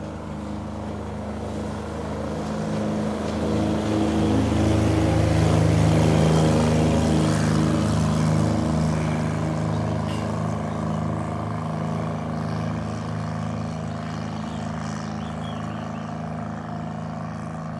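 A 3T63 diesel engine runs steadily aboard a 4.9 m boat, a continuous low mechanical drone with a layered hum that swells slightly at about six seconds and then holds an even, unbroken pace.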